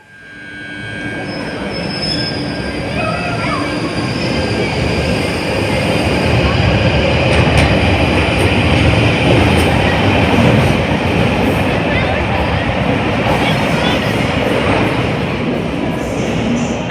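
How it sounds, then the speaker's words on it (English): A train rumbles into Kentish Town station in London, wheels clattering and squealing on the rails, the roar building loud and steady with faint high screeches. "Here comes the train that will take us back to Mill Hill Broadway"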